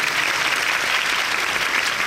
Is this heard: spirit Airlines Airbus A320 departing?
no